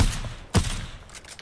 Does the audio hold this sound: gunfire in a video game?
yes